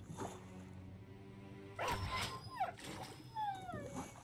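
A war dog in the video game Battle Brothers whimpers and yips in high, wavering cries, several short whines close up after a brief clatter of combat sounds.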